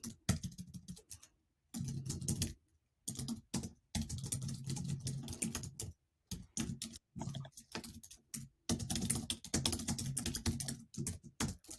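Computer keyboard typing, close and crisp, in several rapid bursts of key taps separated by short pauses, with no talking.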